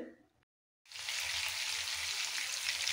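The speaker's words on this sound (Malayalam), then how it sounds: "chicken fry ചെയ്തെടുക്കുന്നു" Chicken pieces seasoned with turmeric, chilli powder and salt fry in a pan, giving a loud, steady sizzle that starts abruptly after a brief silence and continues evenly.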